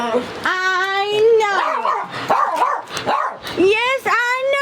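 A dog in the video game Unchanged barks over and over, with high, yappy barks and whiny yips coming in quick bursts. The sound is loud and close and fills the whole stretch.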